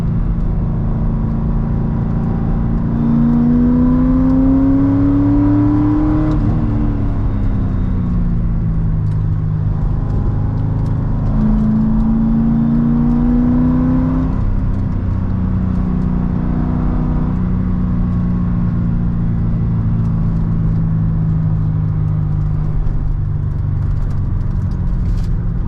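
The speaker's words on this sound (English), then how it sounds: "Tunnels sound amazing." A 2007 Corvette Z06 engine echoes inside a mountain-road tunnel, a loud sustained rumble with two clear rev climbs and gear shifts, droning steadily throughout without any talk.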